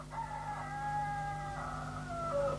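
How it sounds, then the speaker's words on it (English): A rooster sound effect plays on pirate radio, one long drawn-out cock-a-doodle-doo crow at moderate level over a faint steady hum. "I want the rooster."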